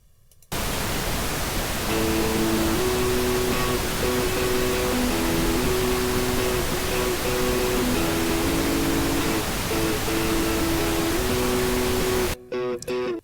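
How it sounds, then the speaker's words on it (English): A loud, steady wash of pink noise fills the whole stretch, with a faint electric guitar melody audible underneath, then cuts off abruptly near the end. "I'm going to do it one more time just so you can hear the guitar under the pink noise"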